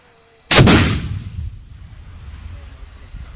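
A TOW anti-tank missile launches at a T-72 tank in a combat setting, one sharp, loud, close blast followed by a long rumbling roar that slowly fades.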